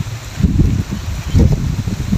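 Strong wind gusts rush through leaves outdoors, a loud, rough buffeting roar that surges and dips, with wind hitting the microphone up close.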